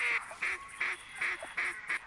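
Ducks calling in the hunting game theHunter 2017, about six evenly spaced loud honking quacks in a steady rhythm, fairly close with no talk.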